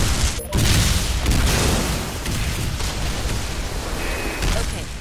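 Heavy explosions from a bombardment in the video game Bodycount rumble continuously, a dense wall of booms and blasts with a sharp burst near the start.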